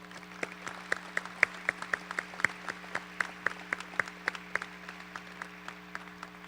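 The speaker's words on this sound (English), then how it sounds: "a round of applause for supporting these young men and women" Sparse audience applause at a high school National Signing Day ceremony, with scattered individual claps ringing out in an irregular rhythm over a steady background hum in a large room.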